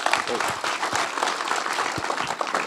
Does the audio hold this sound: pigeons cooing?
no